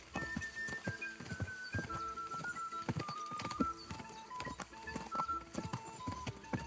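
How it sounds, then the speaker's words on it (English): Galloping horse hooves in the medieval game Kingdom Come: Deliverance 2, a steady fast clip-clop rhythm up close with occasional whinnies over a busy background of game music. "Easy, good horse."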